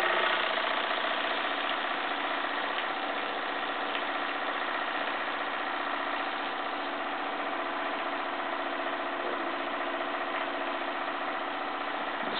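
A Jensen 75 toy steam engine drives a small hoist at a little over quarter throttle, giving a steady, even mechanical whir and hum with faint rhythmic ticking, close and constant throughout with no talk.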